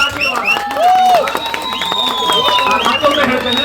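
Audience clapping at a district-level mud tug-of-war held by a public Ganesh festival committee: a steady wash of crowd applause with voices and babble over it.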